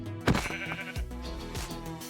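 Sheep in the Minecraft video game bleating several times in a row, close and fairly loud, with a few overlapping calls and game sounds around them.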